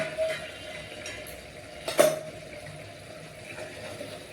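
A metal spoon stirs potato bhaji in a pan: a quiet simmering background with one sharp clink of the spoon against the pan partway through and faint scraping around it.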